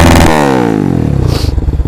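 Close and loud, a motorcycle with a fresh exhaust revs hard, the engine pitch sweeping and shifting through a throaty roar that breaks into rapid chugging pulses near the end.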